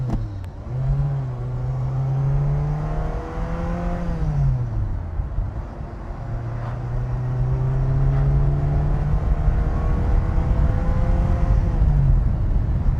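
A 1989 Ferrari Mondial T Cabriolet accelerates on the road, its engine rising through the revs, dipping at a gear change, then climbing again in a steady, close, loud drone with no talking.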